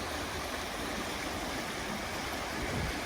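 The Turon River flows at Sofala, an old gold-mining town in Australia, a steady, soft broadband rush of running water with no voices.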